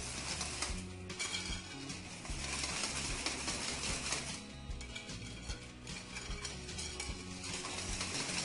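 Basbousa batter with yeast is mixed in a bowl, a continuous wet scraping and stirring with clinks of utensil against the dish, steady and close.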